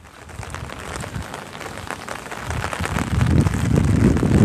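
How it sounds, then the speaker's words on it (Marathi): Heavy rain pours steadily over farmland in Jat taluka, a dense continuous hiss of drops on surfaces that grows louder toward the end, with no voices. "प्रचंड प्रमाणात पाऊस पडतोय"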